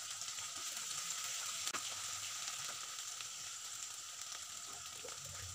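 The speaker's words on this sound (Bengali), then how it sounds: "পেঁয়াজগুলো একটু লাল লাল করে ভেজে নেব" Onions frying in oil with bay leaf, cinnamon, cardamom and cloves give off a soft, steady hiss, quiet and even, with a faint stir or two.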